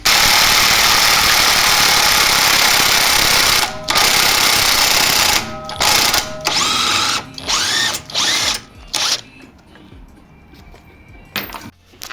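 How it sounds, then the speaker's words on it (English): Air impact gun spinning a bolt off the rear suspension of a 2020 Audi A5 during coil spring replacement, a loud continuous whirring burst that cuts out, then several shorter rattling bursts with pauses between. "And on this side with the gun, let's whiz it off."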